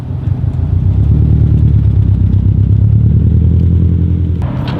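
A Subaru STI fitted with an Invidia G200 exhaust idles and revs with a loud, deep, steady rumble, droning close by for several seconds before a brief sharp noise near the end.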